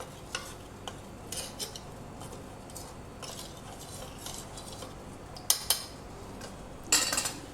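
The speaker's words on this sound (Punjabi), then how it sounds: "ਇਹ ਆਪਾਂ ਹਿਲਾਉਂਦੇ ਹੋਏ ਕੜਸੀ ਨਾਲ ਨਾਲ ਦੀ ਨਾਲ ਥੋੜਾ ਥੋੜਾ ਪਾਉਂਦੇ ਜਾਣਾ" A ladle stirring milk in a pot while making Multani kulfi, with scattered light metallic clinks and scrapes against a quiet background, heard up close.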